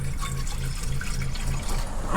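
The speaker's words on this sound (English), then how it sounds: "So we're going to put some water in the bottom of here." Water runs steadily from a tap into a pan, the bottom half of a double boiler in a van kitchen, with a continuous splashing fill and a low hum beneath.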